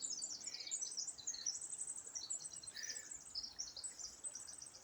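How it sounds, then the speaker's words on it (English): Birds chirp and twitter steadily during a forest hike in British Columbia, a dense overlapping chorus of quick high calls against a faint, even background hush, with no voices. "There's some birds. There's just birds."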